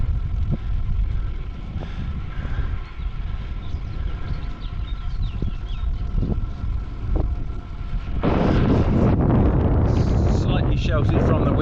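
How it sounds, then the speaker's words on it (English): Strong headwind buffets the microphone while bikepacking near Lake Garda in the Dolomites region, a constant loud low roar that surges heavier toward the end. "There's still a strong headwind, but at least just slightly sheltered."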